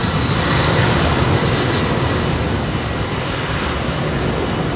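An Airbus A380 with Pratt & Whitney engines takes off close by on runway 27R at London Heathrow, a loud, steady, broadband jet roar that fills the whole clip without letup.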